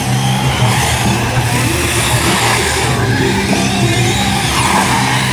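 Racing trucks roar around a race track with a dense, continuous engine drone and tire noise, loud and steady throughout with no clear talking.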